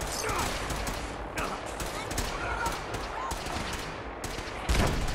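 Rapid bursts of gunfire and explosions from grenade combat in the video game Fallout 4, a dense, continuous fusillade with sharp repeated cracks and a heavier blast near the end.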